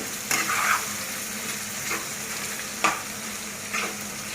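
Mashed potato sizzles steadily in a hot pan. A spatula scrapes through it in occasional distinct strokes, close and fairly quiet, with no talking.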